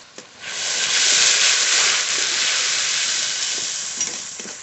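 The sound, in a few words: spice masala being sautéed and stirred in a pan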